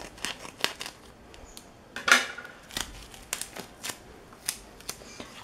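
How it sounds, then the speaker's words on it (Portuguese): Scissors cut a piece of sanitary pad up close, giving a quiet series of crisp, irregular snips and clicks with near silence between them. "Você vai pegar um pedaço do absorvente, vai cortar."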